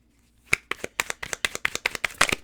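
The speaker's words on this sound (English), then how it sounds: "It's like, what's that noise? It's me shuffling." Rapid, crisp riffling of tarot cards being shuffled, a dozen or so quick snapping bursts in an uneven rhythm, close and fairly loud with no talking.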